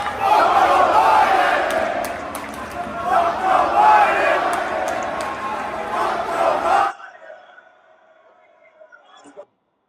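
A large political conference crowd chants in unison, loud and dense with rhythmic swells, for about seven seconds before cutting abruptly to a faint murmuring tail.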